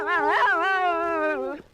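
President Lyndon Johnson's dog howls in a long, sustained, wavering tone, singing along close and clear for nearly two seconds before breaking off.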